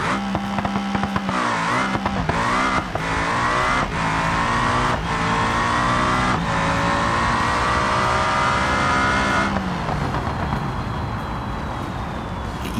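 ETK Cake drag car in BeamNG launching and accelerating down a drag strip, its engine roaring loud and close through rising gear pulls with brief shift breaks, then fading as it winds down.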